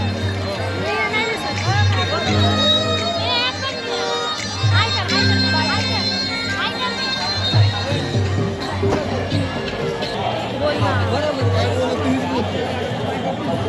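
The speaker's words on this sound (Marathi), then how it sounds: "खूप गर्दी आहे" A big, busy crowd at an Indian fair (mela), with a constant babble of many voices and chatter close around, people talking nearby over the hubbub.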